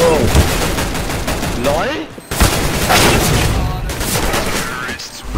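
Rapid bursts of gunfire from Counter-Strike: Global Offensive matchmaking play, loud and dense for several seconds with a brief gap, mixed with players' voices talking over the shots.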